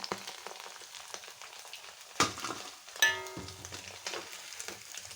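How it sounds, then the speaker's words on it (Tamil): Beef frying in a hot pan for beef fried rice: a steady crackling sizzle with a few louder clanks as the meat is stirred and turned, close and without talk. "பொரிஞ்சிருச்சு இன்னும் கொஞ்சம் நல்லா பொரியணும்"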